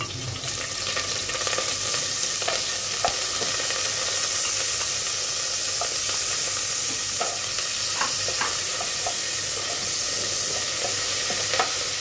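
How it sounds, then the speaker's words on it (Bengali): Chopped onions fry in oil in a pan, a steady close sizzle and hiss with occasional scraping stirs throughout and no talking. "এখন এখানে দিয়ে দিচ্ছি পেঁয়াজ কুচি। পেঁয়াজটাকে একটু ভেজে নিব।"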